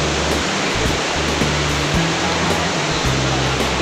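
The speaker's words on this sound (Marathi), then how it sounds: "इकडे मित्रांनो खाली धबधबो हा त्या साईडला" Napne waterfall in Konkan, Maharashtra, below a glass bridge, gives a loud, continuous rushing roar of falling water, close and steady throughout.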